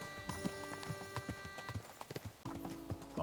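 Horse hooves clip-clop at a steady walking pace in Kingdom Come: Deliverance II, a rhythmic run of close, crisp knocks with a game music drone and tones running underneath.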